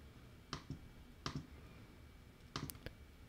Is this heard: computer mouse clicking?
yes